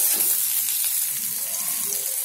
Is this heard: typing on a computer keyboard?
no